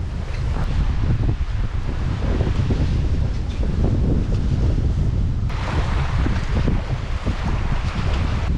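A boat cruising across the sea off the Philippines, with a loud steady rumble of engine, water rush and wind buffeting the microphone throughout, no pauses.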